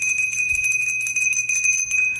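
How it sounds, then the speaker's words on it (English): A hand bell rings continuously and brightly through a spiritual reading session, its sustained metallic tones shimmering with quick repeated strikes and no voices over it. "ring my bell and call my spirits in"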